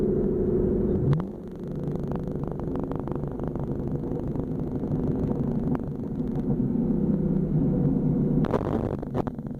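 Steady engine drone from inside a car with a full exhaust, with a brief rise in revs and a throaty burble as the driver shifts down.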